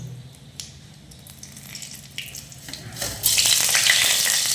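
Mustard seeds frying in hot oil for lemon rice: a low, quiet sizzle swells into a loud, bright crackling hiss about three seconds in and stays steady to the end.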